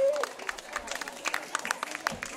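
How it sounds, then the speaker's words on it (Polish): An audience at a regional folk song and dance ensemble performance gives brief, scattered applause, fairly faint and uneven with a few louder claps. "Brawa dla naturalnych muzyków."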